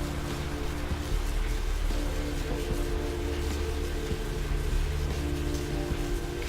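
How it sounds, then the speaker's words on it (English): Steady rain in the vampire role-playing game Vampire the Masquerade: Bloodlines, a dense even hiss of falling water heard alone, continuous and moderately loud over a low rumbling ambient bed with no voices. "Oh, it's raining."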